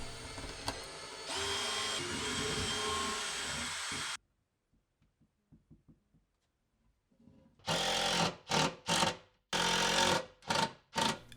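Power drill driving screws to fasten wooden rails for coat hooks in a cabin entry, a long steady whine, then a quiet pause with small taps, then several short loud bursts of drilling.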